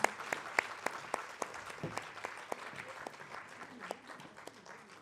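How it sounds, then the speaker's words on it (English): An audience applauds steadily at an award presentation, many hands clapping in a dense patter that continues throughout, heard from some distance in a large room. "Let's give a big round of applause."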